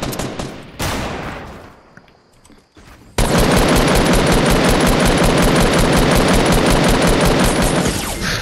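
Fortnite gunfire: a short burst of shots, a brief lull, then a loud, sustained stream of rapid automatic fire lasting about five seconds before cutting off.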